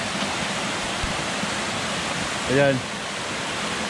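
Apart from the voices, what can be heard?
waterfall at Fikong Falls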